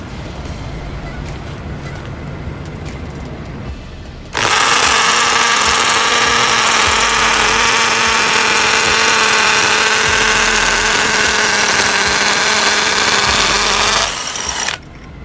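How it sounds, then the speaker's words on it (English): A Bosch GSB 180-LI cordless combi drill bores with an 8mm bit, starting abruptly after a quiet stretch and running loud and steady for about ten seconds before stopping. "8mm po yung drill bit."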